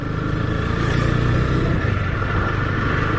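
Husqvarna Svartpilen 250 motorcycle engine under way, a steady mid-pitched drone with wind rush throughout, close and continuous, no speech.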